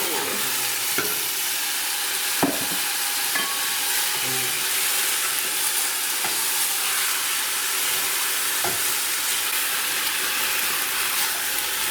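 Chicken pieces frying in a pan with ginger and garlic for a chicken and vegetable soup, a steady close sizzle broken by occasional sharp scrapes and clacks of stirring, with no talking.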